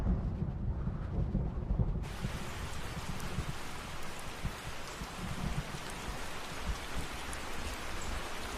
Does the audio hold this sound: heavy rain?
yes